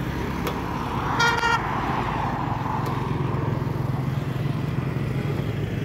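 A 2023-model motorbike runs steadily close by, its low engine drone continuous throughout, with a brief horn-like tone partway through and no talking.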